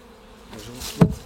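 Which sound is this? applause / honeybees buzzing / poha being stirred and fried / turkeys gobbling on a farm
honeybees buzzing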